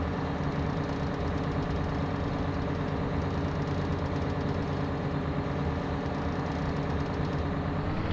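Big tractor engine in Farming Simulator 17, a steady low rumbling drone that holds at a constant level for the whole stretch, with no voices over it.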